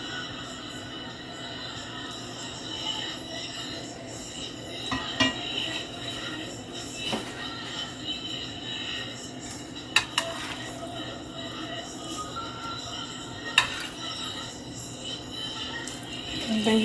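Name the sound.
stirring chicken and shrimp alfredo in a pot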